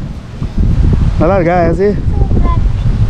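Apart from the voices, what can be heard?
breeze blowing at lakeside resort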